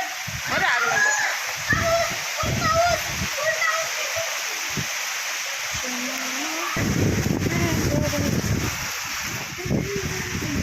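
Heavy May rain pours down and splashes loudly at a home, a steady, close wash of water with people talking over it for much of the time.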